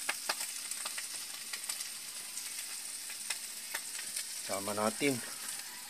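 Vegetables such as eggplant, squash and moringa fry in oil for Ilocano pinakbet, making a steady close sizzle with small crackles throughout, and a brief spoken phrase near the end.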